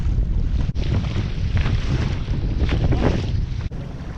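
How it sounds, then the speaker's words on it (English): Wind gusting steadily over a kayak on the Swan River near Perth, a continuous loud rushing roar with buffeting against the microphone and two brief dropouts. "It's a bit windy."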